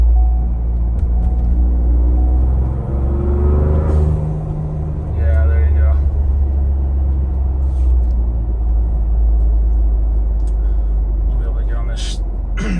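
A Ford Bronco fitted with a DIY blow-off valve idles steadily with its cooling fans running, a loud continuous low rumble and whir filling the whole stretch, with a brief rise in engine note partway through.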